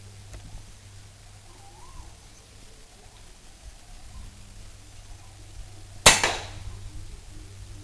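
A single air rifle shot fired during accuracy target practice, a sharp close crack standing out alone against quiet outdoor background noise with a steady low hum.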